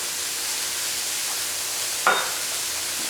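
Vegetables frying in a pan for an egg roll in a bowl dish, with a steady soft sizzle throughout and one brief louder scrape of a stirring spoon near the end.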